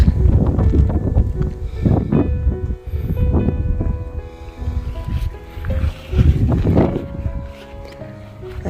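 Strong wind gusts roar continuously past the microphone beside a cold lake, buffeting and rumbling loudly in uneven surges, with water lapping by a boat.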